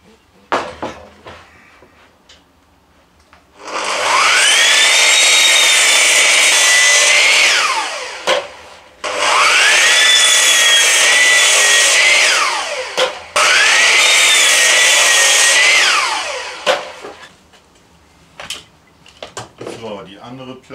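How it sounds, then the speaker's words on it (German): A miter saw whines loudly through three separate cuts, each spinning up, biting through wood for a VW T4 van kitchen unit, then winding down, with clatter and handling noises between. "das kann ich auch mit der Kappsäge eben sägen"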